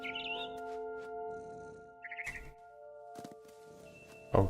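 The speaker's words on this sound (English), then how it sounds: "It was a barn swallow going back to her nest." A barn swallow in the What Remains of Edith Finch game gives several short, high chirps near the start and again around two seconds, over a steady tonal game soundscape, with a sharp thunk near the end.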